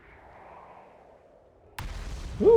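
An explosion in the Outer Wilds video game cracks sharply after a quiet, airy stretch, followed by rumbling debris and a rising whoosh near the end.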